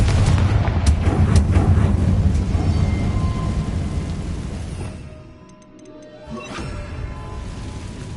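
Confringo fire-blast spell from Hogwarts Legacy bursting in heavy booming explosions, a dense rumbling roar at the start that fades into a brief lull before another blast swells back, loud and close.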